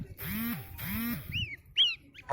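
Geese with goslings honking nearby, two loud nasal honks in quick succession followed by thin high peeping from the young birds, close and clear outdoors.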